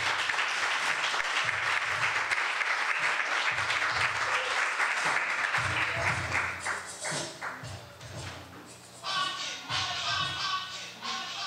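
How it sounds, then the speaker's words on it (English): A crowd at a political gathering of the African People's Socialist Party in St. Pete applauds continuously, loud and dense at first, then thinning into scattered claps that swell again near the end. "Uhuru, round of applause"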